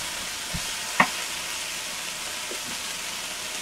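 Vegetables softening in a hot pan give off a steady hiss of sizzling, with a sharp clink near the start and a few soft stirring taps later, and no speech.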